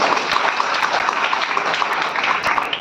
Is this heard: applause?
yes